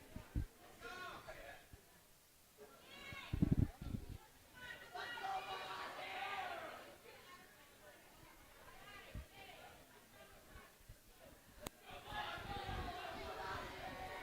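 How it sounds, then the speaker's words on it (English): Swimmers on a high school pool deck shout encouragement and cheer during a varsity meet, scattered bursts of voices rising and falling in a reverberant natatorium, with sharp thumps and nearby talk mixed in. "you can just hear the encouragement coming from the swimmers down on the deck"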